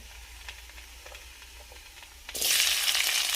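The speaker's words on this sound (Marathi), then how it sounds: "तेल गरम झाले की त्यामध्ये जिरे घालूयात।" Quiet crackles give way to a sudden loud sizzle as cumin seeds hit hot oil in a kadhai, the hiss continuing strongly to the end.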